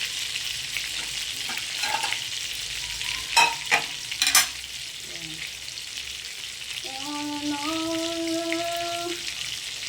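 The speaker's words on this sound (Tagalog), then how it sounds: "I-crispy lang po natin siya para masarap ito kainin." Fish fillet seasoned with pepper and flour powder fries crisply in a pan, a steady close sizzle with a few sharp clatters of stirring, unbroken by any talk.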